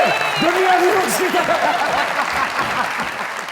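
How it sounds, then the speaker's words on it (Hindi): Applause from a studio audience on a talk show, brisk clapping that swells and then tapers off, with a voice speaking over the clapping and faint laughter. "एक बार तालियां बजा के बताइए"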